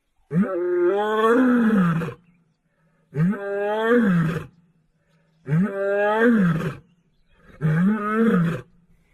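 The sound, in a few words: lioness roaring to call her cubs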